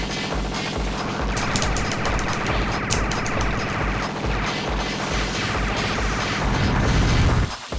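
Boss machine gun and missile fire in a Ghost in the Shell video game: loud, rapid continuous bursts of gunfire with crashing impacts and explosive blasts, building to a heavy final burst.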